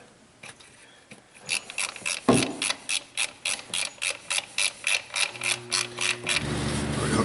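Ratchet tightening a bolt on a Mercedes-Benz power steering unit, a steady series of about fifteen evenly spaced clicks, close and moderately loud, ending in a brief low hum.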